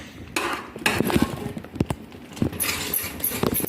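Semolina sheera stirred in a pan, with a spoon clinking and scraping against the metal in irregular knocks and rubs, moderately close, with no talk.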